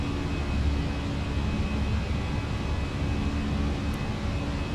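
Steady, loud roar of an airliner's engines climbing after takeoff in Microsoft Flight Simulator, a constant broadband rumble with a faint hum, uninterrupted and without talk.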